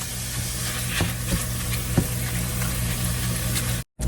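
Ground turkey frying in a skillet, sizzling steadily up close while a grinder tool presses and scrapes through the meat with a few distinct knocks, then a brief cut to silence near the end.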